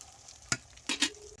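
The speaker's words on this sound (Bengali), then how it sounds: "ভালো করে নেড়ে চেড়ে ভেজে নেবো এরকম তেলের মধ্যে" Soya chunks stirred while frying in oil in a kadai: a few sharp scraping stirs over a soft continuous sizzle, close and alone.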